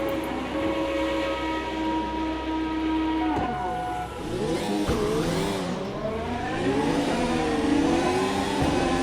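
Car engine in a VR racing video game, loud and continuous with rising and falling revs and gear changes, alone without talk.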